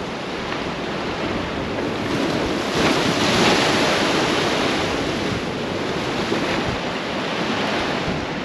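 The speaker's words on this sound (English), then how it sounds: "every wave that crashes is just literally taking a chunk of the road out" Large storm waves pound a Lake Erie shoreline road, a loud continuous roar of surf and wind buffeting the microphone, swelling into a heavier crash partway through and never letting up.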